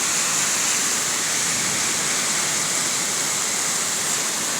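Rainwater from a downpour rushes down a flooded street in a steady, loud, unbroken roar, close by, with no voices.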